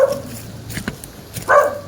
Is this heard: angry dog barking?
yes